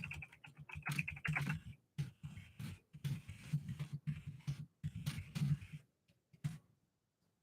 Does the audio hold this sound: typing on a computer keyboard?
yes